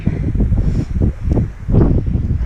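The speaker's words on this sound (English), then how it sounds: "It's so windy." Gusty wind on a mountain hiking trail buffets the microphone in heavy low rumbling bursts, rising and falling across the clip with a faint rustle on top.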